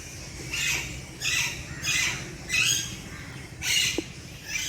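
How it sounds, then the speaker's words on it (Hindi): Parrots and mynas in a cage at a Mumbai zoo give a series of five harsh, bright squawks at a steady pace, each call standing clearly over faint background hum. "इधर पोपट है, तोता जिसको बोलते हैं, नैना मैना। ये नैना मैना पोपट है।"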